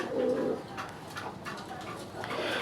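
Pigeons of the gola and gorra breeds cooing, with a low, soft coo at the start and faint rustling and murmurs from a pigeon market setting.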